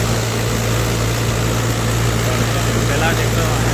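A tractor hauling sand, its engine running with a loud, steady droning rumble heard up close and unbroken throughout.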